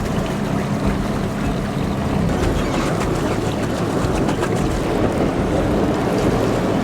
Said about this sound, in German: Also wir fahren jetzt gerade in die Schleuse.